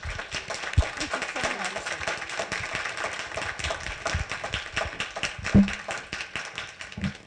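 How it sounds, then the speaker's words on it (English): Applause at a university lecture for author Sarah Schulman, with many hands clapping in a dense, steady patter across a hall, moderately loud and continuous throughout, with a few louder single claps near the front. "So one more big round of applause for our author, Sarah Shulman."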